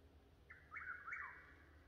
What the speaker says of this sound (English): And listen to that bird in the background.